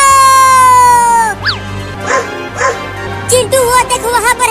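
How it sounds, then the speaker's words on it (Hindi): A cartoon dog barking and whimpering, a short yip and a few bow-wow barks after a long musical tone, loud and close. "अरे बाप रे, ये कुत्ता तो बहुत ही बड़ा और खतरनाक"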